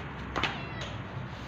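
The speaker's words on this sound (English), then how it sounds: "Cat." A pet cat gives a single short meow near the start, close and fairly quiet over a soft background hum.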